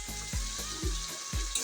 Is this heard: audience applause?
no